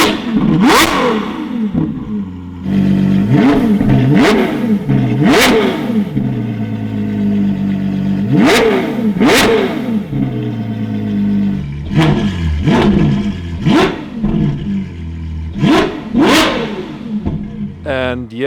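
Novitec-exhausted Ferrari 812 N-Largo S V12 revving hard in repeated sharp bursts, each climbing to a howl then dropping off, loud and close, with voices talking between the revs.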